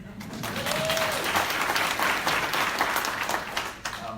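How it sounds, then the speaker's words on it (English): Audience at a county district attorney candidate forum breaks into applause, a steady, fairly close wash of clapping from a mid-sized crowd lasting a few seconds with faint voices mixed in. "please clap for me"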